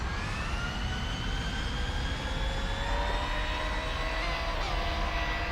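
Jet engines of a War Thunder aircraft hold a steady, loud whine and roar, with high tonal lines drifting slowly and no breaks from start to finish.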